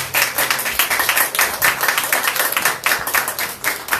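Congregation clapping hands in praise during a Spanish-language church service, a dense, steady run of many overlapping claps filling the whole stretch at close range.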